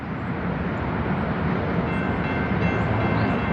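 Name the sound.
train passing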